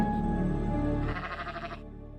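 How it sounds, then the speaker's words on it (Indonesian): A mother sheep bleats loudly nearby, calling for her lamb, one long wavering cry that fades out before a quiet pause. "Lalu dia mendengar domba dan ternyata dia adalah ibu domba yang sedang memanggil anaknya dari jendela rumah."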